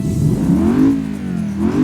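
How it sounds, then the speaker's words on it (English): A custom 4-litre V8 in a Procyon Avior luxury sedan in BeamNG revs smoothly, its soft, mellow note climbing, easing off and climbing again over a couple of seconds, heard alone without voices. "Under the hood, all of the Aviors have a 4-litre V8 engine. This is a custom engine model, and we've got a custom engine sound."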